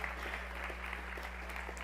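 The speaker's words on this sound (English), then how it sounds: "we are a clapping group" A church congregation claps together, a soft, steady patter of applause heard from a distance over a low background hum.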